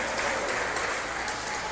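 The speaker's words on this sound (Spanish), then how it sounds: "Con el respectivo aplauso de la audiencia" Audience applause at a national Arab clubs championship as the teams are introduced, a brief, steady wash of clapping heard at moderate distance.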